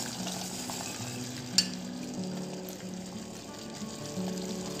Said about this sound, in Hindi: देखिए ये बॉईल हो रहा है